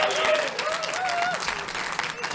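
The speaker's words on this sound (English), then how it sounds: "round of applause for our improv comedy segment" An audience at an improv comedy show applauds in a dense, continuous wash of clapping, with a voice rising briefly over the noise.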